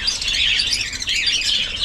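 Guinea fowl calling in a steady stream of shrill, high chirps and squawks, fairly loud and continuous, with no talking.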